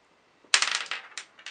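Dice are rolled in the Memoir '44 board game, a sharp clattering burst of small hard objects tumbling close by, followed by a couple of lighter rattles as they settle.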